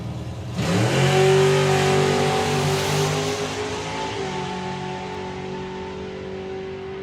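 A drag racing car makes a low eight-second run at about 166 mph at a European finals meeting, bursting in loudly and then fading with a falling, whining engine tone as it screams away.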